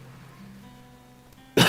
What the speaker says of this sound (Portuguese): Vocês me perdoem de dar umas tosse